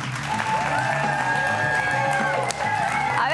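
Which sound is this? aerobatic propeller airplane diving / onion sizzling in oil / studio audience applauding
studio audience applauding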